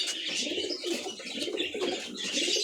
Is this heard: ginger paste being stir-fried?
no